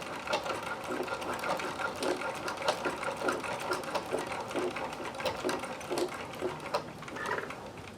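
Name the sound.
sewing machine stitching through double-thickness elastic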